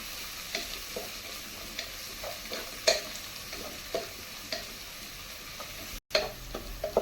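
Crushed ginger and garlic sizzle steadily in hot oil for a chicken curry, with a spoon scraping and stirring the pan in light repeated strokes and a few sharper clinks, close and fairly quiet throughout.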